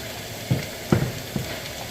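Cauliflower rice sautés in a pan with a soft continuous sizzle, broken by a few light scraping stirs close by, no voices.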